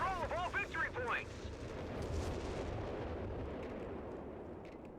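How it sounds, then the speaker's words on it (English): Grenade blasts in Company of Heroes 3 boom and rumble across a dense battlefield, a broad roar that swells and lingers for several seconds after a brief spoken call at the start. "Grenades coming in."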